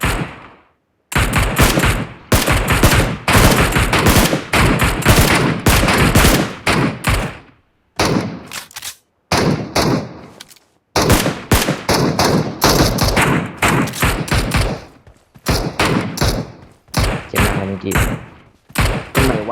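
Rapid bursts of automatic gunfire and shots in a shooter video game, loud and dense in long volleys separated by brief pauses.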